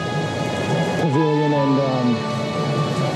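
Steady rain pours down outdoors during a lakeside drone-flying outing, a thick continuous wash with thunder cues, while a person talks over it close by.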